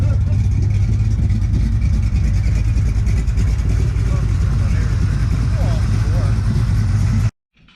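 A 455-swapped Oldsmobile Cutlass runs loud and close, its engine rumbling steadily and revving with a rough, heavy throb for about seven seconds before cutting off abruptly.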